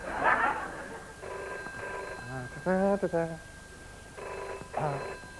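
A telephone rings on a television comedy special, sounding in repeated bursts between lines of speech.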